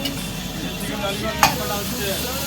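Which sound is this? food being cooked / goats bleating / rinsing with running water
food being cooked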